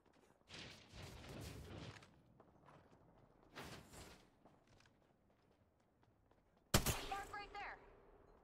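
Gunfire in an Apex Legends match: scattered bursts of shots early on, quiet gaps with faint movement, then a sharp loud blast followed by ringing and fading echoes.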